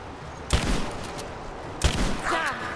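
Two loud, sharp gunshots about a second apart in the video game Rise of the Tomb Raider, fired at a witch, each cracking sharply and ringing briefly over a low game-ambience bed.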